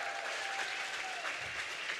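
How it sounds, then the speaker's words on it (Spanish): Church congregation applauding a pastor, steady dense clapping from a large crowd, moderately distant and sustained throughout. "Fuerte el aplauso,"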